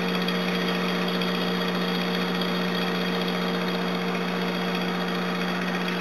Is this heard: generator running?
yes